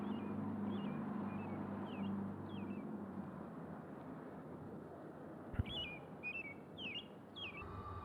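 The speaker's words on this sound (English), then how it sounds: "Oh, now she can hear the bird." Faint, scattered bird chirps sound at a distance over a low ambient rumble, with a single brief thump midway.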